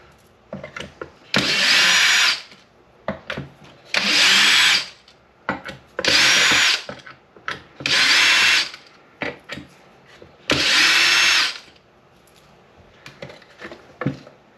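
A power drill removes small bolts from an Arrma Outcast 8S RC car in five loud, close bursts of a couple of seconds each, separated by quieter clicks and handling noises.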